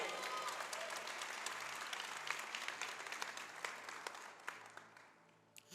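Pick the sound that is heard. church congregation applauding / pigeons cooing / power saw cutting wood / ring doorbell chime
church congregation applauding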